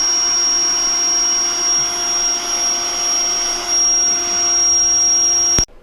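An automatic pump drawing the air out of an RV air mattress in a Thor Siesta 24SR motorhome runs as a steady, loud whining hum before cutting off abruptly near the end.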